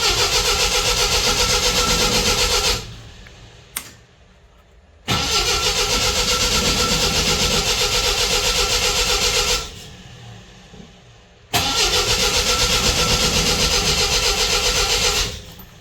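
An MGB engine fitted with a Weber DCOE carburettor and suffering vapor lock runs loudly, then dies, sputters briefly and restarts, cutting out twice before running again.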